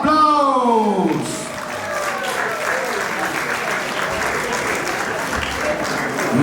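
Audience applause at an outdoor community celebration in Estonia, loud continuous clapping from a crowd rising just after a voice announces it and carrying on steadily to the end.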